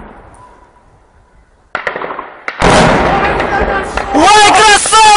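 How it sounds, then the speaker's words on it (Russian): A single heavy cannon blast from an MT-LB armored vehicle booms sharply after a quiet stretch near Donetsk airport, followed by excited shouting voices. "Выстрел!"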